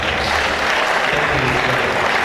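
Continuous, thick applause from an audience honouring a guest lecturer at a memorial lecture, steady and full throughout with no pauses.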